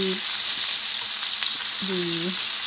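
Vegetables sauté in a pan with a steady, close sizzle and frying hiss throughout, with occasional stirring clatter and a couple of brief tonal squeaks but no talk.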